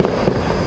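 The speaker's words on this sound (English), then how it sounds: "There's fireworks over there." Fireworks going off outdoors in the distance, a dense, continuous crackle and rumble of bursts at steady loudness throughout the short moment, with no voices over it.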